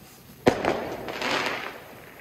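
Fireworks going off at New Year in the UK: one sharp close bang, then a spread of crackling bursts and fizzing that fade out across the next second or so.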